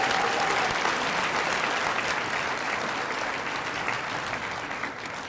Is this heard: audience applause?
yes